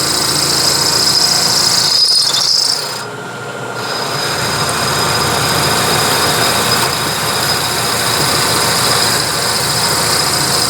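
An end mill cuts a slot in a metal carriage stop body, a loud, continuous grinding whine with a high squeal running throughout, dipping briefly near the start before resuming at full strength.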